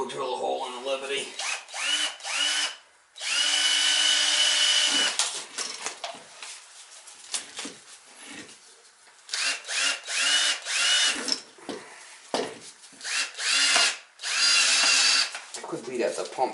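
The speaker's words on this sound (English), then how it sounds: "We'll drill a hole in the Liberty." A power drill whirs in several loud bursts, starting and stopping, as it bores a hole in a Liberty sump pump, with someone talking in the pauses between bursts.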